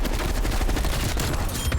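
Rapid automatic fire from a Groza rifle in Call of Duty Cold War, a dense, continuous burst of shots rattling without pause, loud and close.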